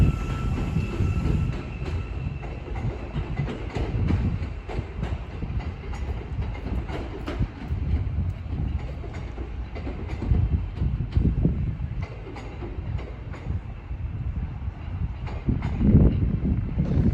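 A train runs through Cambridge station with a continuous rumble and rhythmic clatter of wheels over rail joints, moderately loud and close, with no voices.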